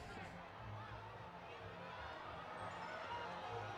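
Hockey crowd at an Arizona vs ASU game reacting to a slashing penalty call, a faint, distant murmur of disgruntled voices and babble in a rink, with a referee's whistle-like tone briefly near the end.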